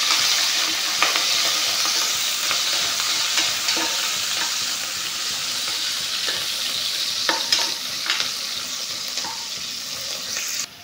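Onions fry in hot oil in a pan for a chicken fry dish, a steady close sizzle running throughout with scattered clicks and scrapes of stirring and no talking.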